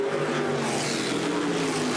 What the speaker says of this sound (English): I'm sure he's enjoying the vibration, the sound of these Formula 5000 cars